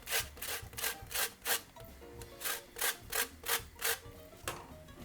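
A lemon is zested in a kitchen, with about ten close, rhythmic rasping strokes broken by a short pause after the first few.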